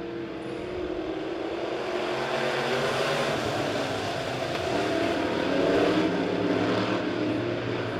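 Midwest modified race cars at Springfield Raceway in a Turkey Bowl B-Main coming off the final turn, a dense, steady roar of many engines at full throttle, loud and continuous, swelling slightly as the pack passes.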